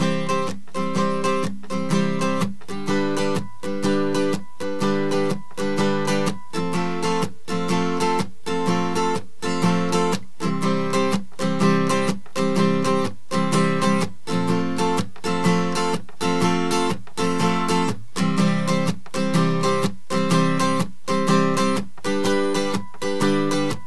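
Acoustic guitar strumming the verse chords of a song, in an easy arrangement: a steady, even rhythm of bright strums repeating throughout, close and clear, with no singing or talk.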